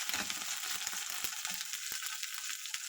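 Ginger garlic paste fries in hot oil while making veg spring rolls, a steady close hiss and sizzle with small crackling pops and faint stirring clicks throughout.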